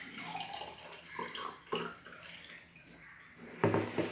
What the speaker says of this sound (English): I am going to take first cup and pour the water